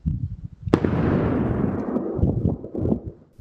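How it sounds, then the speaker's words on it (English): An explosion at the Givaudan chemical plant in the Clifton neighborhood lands as one sharp, heavy blast followed by a long rolling rumble that slowly fades over several seconds. "An explosion at the Givaudan plant that shook the Clifton neighborhood."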